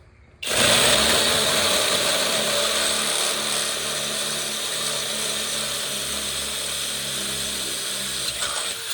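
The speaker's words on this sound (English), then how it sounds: "7/16 drill bit. Just drill that out." A power drill whines steadily for several seconds as a 7/16 bit bores through aluminum, loud and close, with no talking.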